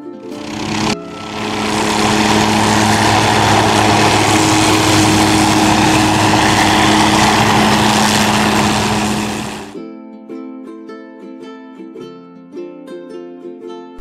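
A loud, steady engine roar with whirring blades runs for several seconds, then cuts off into soft music.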